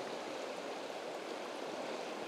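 A wild mountain river in the Balkan limestone country, with a strong, cold current, rushing steadily as a broad, continuous wash of water noise with no voices.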